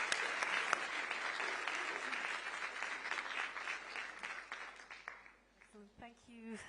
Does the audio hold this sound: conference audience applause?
yes